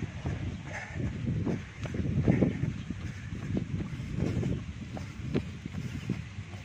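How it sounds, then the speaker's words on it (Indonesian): Gusty wind buffets the microphone outdoors during a relaxed jog in clear weather, as a low rumbling roar that swells and eases in irregular surges, with no voices. "Ya, cuaca cerah dengan angin berhembus"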